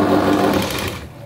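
A sewing machine runs fast and close, stitching a strip on a princess-cut blouse, a dense, even mechanical whir that slows and fades toward the end of the brief burst, with no talking.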